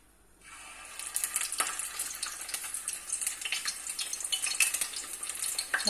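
Shrimp fritters frying in hot oil, a dense crackling sizzle that starts after a quiet moment and keeps up with bright spattering pops, fairly soft and close, no talking.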